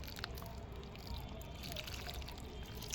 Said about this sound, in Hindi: पानी भी मैं डाल देती हूँ इस तरह से